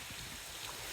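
Sea water washing up under the edges of stones along a shore, a soft continuous wash and trickle, faint and steady with no voices.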